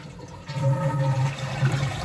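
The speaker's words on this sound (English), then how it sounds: "Next we want to get the water out of the tank," A toilet flushes as its tank is emptied during a fill valve replacement, a close gurgling rush of draining water that swells and continues steadily.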